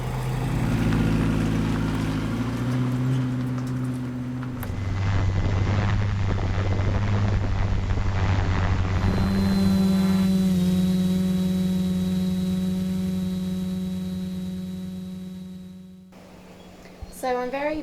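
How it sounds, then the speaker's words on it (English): A small drone flies near a moving car, its thin high-pitched buzzing whine rising and holding steady over the car's road rumble and engine drone, with shifting loudness as it moves close and away. "So I'm going to try and get the drone as close to the car as possible, and then right up in the sky"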